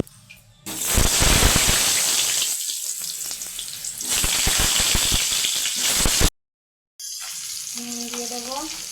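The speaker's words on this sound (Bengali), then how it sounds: "তেল গরম হয়ে গেছে, আলু দিয়ে দেবো।" Potatoes added to hot oil in a wok set off a loud, rushing sizzle with crackling bursts, which drops out abruptly to silence before faint tonal sounds return.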